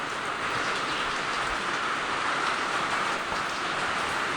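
Heavy rain pours without a break, a dense, loud, even roar of drops near a home with a bird feeding area, with no voices.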